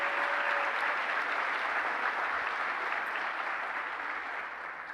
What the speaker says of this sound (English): continue your round of applause as Dr. Hultgren now takes the podium